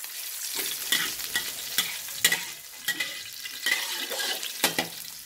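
Garlic with skins on frying in a pan of oil: a steady crackling sizzle with bursts of spatula scraping and stirring throughout, moderately loud and close.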